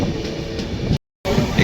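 Tirumala Express passenger train rolling slowly, a steady low rumble and rattle heard from on board, briefly cut to silence midway before the rumble resumes.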